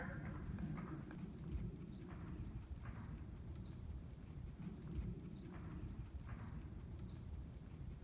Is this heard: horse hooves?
yes